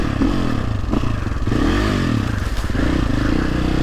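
A poorly running Sherco 450 SEF enduro motorcycle being ridden, its engine loud and close with uneven, wavering revs as it struggles and threatens to cut out, accompanied by clatter and scraping from the trail.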